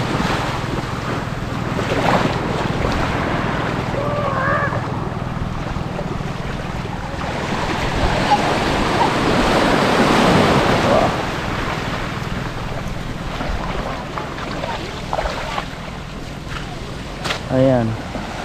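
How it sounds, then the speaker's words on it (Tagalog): Big ocean waves surging and washing over sand, a steady roaring wash with a swell in the middle, heard with strong wind buffeting the microphone and a voice talking now and then. "Laki ng alon dito, alukay."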